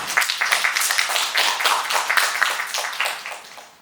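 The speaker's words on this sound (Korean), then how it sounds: "큰 박수로 맞이해주시기 바랍니다" Crowd applause at a youth sustainability forum in Busan welcoming a presenter, many hands clapping in a dense steady patter that swells and then tapers off toward the end, with no speech over it.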